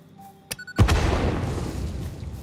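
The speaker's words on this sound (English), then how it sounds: "There's our first explosion." In the factory game Satisfactory, a few short clicks are followed by a loud, deep explosion that rumbles and fades slowly, with no talk over it.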